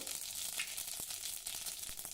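Cumin seeds sizzle in hot ghee alongside mustard seeds in a tempering for traditional kadhi, giving a steady, close crackling hiss with a few sharper pops throughout.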